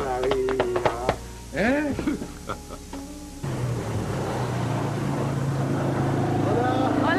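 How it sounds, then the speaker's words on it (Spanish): A motorcycle engine runs steadily at close range, a continuous low drone that starts abruptly partway through and holds to the end, following a stretch of people talking and laughing. "Una moto."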